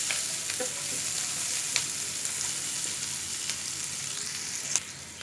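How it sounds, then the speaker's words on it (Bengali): Onions and green chilies frying in a pan for a chicken sizzling dish, giving a soft, steady sizzling hiss with a few faint scrapes of stirring, fairly quiet and with no voices. "পেঁয়াজটা কিছুক্ষণ ভেজে নেওয়ার পর"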